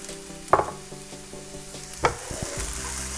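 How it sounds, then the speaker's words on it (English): Pepper added to veg pulao frying in a pan, a steady sizzle with two sharp stirring scrapes and clatters of utensil against the pan, close and without voices. "So I'm now going to add the pepper and just give it another minute."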